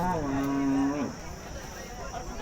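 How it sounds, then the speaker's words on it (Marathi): A cow gives a single loud, drawn-out moo close by at the Motala cattle market in Buldhana district, trailing off into low background murmur of the market. "आज आपण पाहणार आहोत मोताळ्यांच्या गाई"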